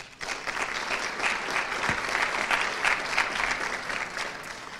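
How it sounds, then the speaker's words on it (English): Audience at a charity awards luncheon breaks into sustained applause, a dense steady wash of many hands clapping that holds at a fairly even level throughout, with no talk over it. "Please help me give them a round of applause."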